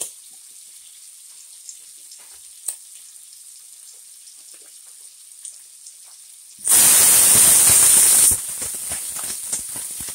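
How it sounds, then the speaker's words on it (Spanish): Green beans dropped into a hot pan start frying with a sudden loud, dense sizzle about two-thirds through, after a quiet stretch of faint kitchen background; the burst lasts a couple of seconds, then settles into a softer, steady crackle. "Voy a poner los ejotes."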